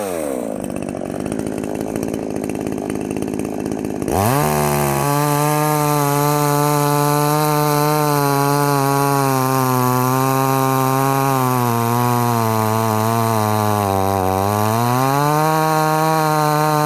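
A cheap Chinese-made MTM chainsaw idles briefly, then bites into a log with a loud sustained buzzing whine that dips and rises in pitch as the cut proceeds.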